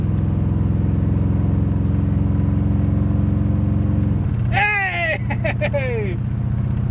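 A V8 Buick LeSabre engine drones steadily at speed while driving, a loud low rumble that holds constant before a sharp whining squeal cuts in and fades.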